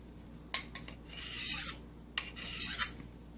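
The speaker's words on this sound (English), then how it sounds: "you would either use your diamond sharpener to sharpen it" Knife blade drawn across a diamond sharpener in quick strokes, several short rasping scrapes in two bursts, close and clear with no talk.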